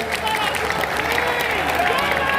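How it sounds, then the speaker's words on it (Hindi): Strong round of applause from a gathered audience at a saint-meeting ceremony welcoming a Hindu foot pilgrimage in Vrindavan, dense continuous clapping close and loud with faint voices mixed in. "ये एक बार ताली जोरदार बजा करके धन्यवाद।"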